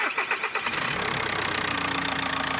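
A Volkswagen Golf 1.9 TDI diesel with a rebuilt tandem pump cranks with a few quick rhythmic turns, then catches and settles into a steady, loud, close idle with a slightly knocking diesel clatter.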